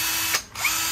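A Hitachi DV18DBSL cordless hammer drill runs at its fast speed setting, a steady, loud high-pitched whine that dips briefly midway and then resumes, heard alone at close range.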